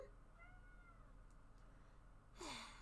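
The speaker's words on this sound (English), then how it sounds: "whiny kitty" A pet cat lets out a faint, whiny meow early on, and a louder, sharper cry breaks in near the end. A quiet room hum runs underneath.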